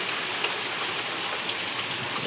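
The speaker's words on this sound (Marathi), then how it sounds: "असा पाऊस चालू आहे आमच्याकडे" Steady, dense rain pours down without letup, a continuous hiss of drops drumming on surfaces, close and fairly loud, with no voices.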